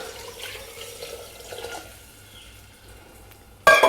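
Water, about one litre, is poured into a clay pot holding black chickpeas, potatoes, onion and spices, a soft gurgling trickle, moderately close, ending with a sudden louder splash and clatter.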